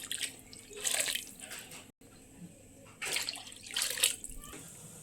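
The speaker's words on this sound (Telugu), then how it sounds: "మనం ఇందులో వాటర్ కూడా యాడ్ చేసుకుంటున్నామండి" Water is poured into a fish curry in two separate bursts of splashing and trickling, close by, with a short silent gap between them.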